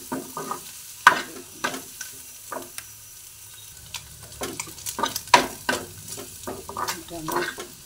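Egg roll frying in a pan, with steady sizzling crackle and repeated sharp clinks and scrapes of stirring or turning, fairly close and clear with no talk.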